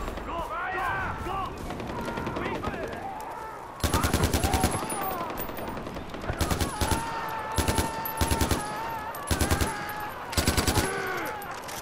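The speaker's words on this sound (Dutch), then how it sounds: "Ik hoor wel mensen schieten." Bursts of automatic gunfire in the Far Cry 4 video game, a run of short rattling volleys spaced a second or two apart, loud over a busy background of game sounds and faint voices.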